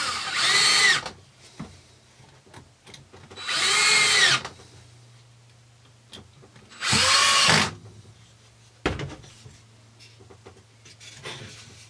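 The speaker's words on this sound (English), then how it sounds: "I'm using thin screws to remove the need for drilling pilot holes" A power drill driving thin screws into a wooden joint with no pilot holes, in three loud, close whirring bursts of about a second each, separated by quieter pauses and small clicks.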